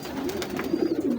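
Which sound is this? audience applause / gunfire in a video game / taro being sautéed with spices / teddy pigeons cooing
teddy pigeons cooing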